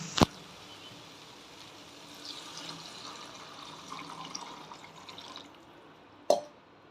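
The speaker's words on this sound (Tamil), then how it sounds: "தண்ணி சேர்த்தாச்சு." Water pours steadily into a cooking pot for vegetable semiya, several seconds of soft continuous splash framed by a sharp clink at the start and another near the end.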